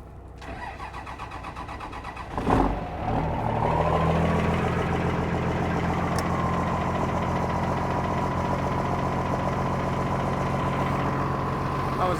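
A Cummins-swapped Ford F700 diesel truck engine cranks and catches with a loud burst, then settles into a steady, rumbling idle that continues to the end.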